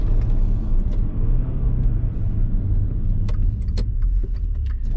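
The four-cylinder petrol engine of a Maserati Levante GT Hybrid runs with a deep, steady rumble from nearby, while a few light clicks and jingles sound over it and no voices are heard.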